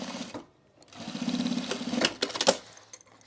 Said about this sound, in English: It's so funny to be sewing these so inefficiently in a way